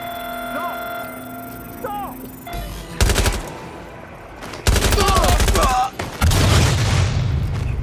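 Gunfire in the video game Watch Dogs Legion, a pink gun: loud bursts of rapid automatic shots arriving in clusters with booming impacts, mixed with game effects and short voice sounds.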